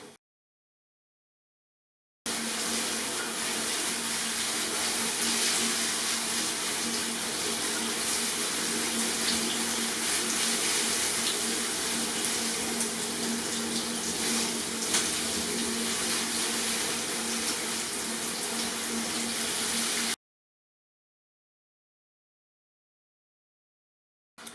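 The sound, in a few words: shower water rinsing a parlour palm plant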